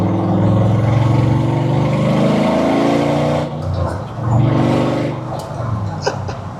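A 1963 Chevrolet split-window Corvette cruising at about 55 mph, engine near 1800 RPM with the windows down, gives a loud continuous low drone with road and wind roar, easing briefly then surging again.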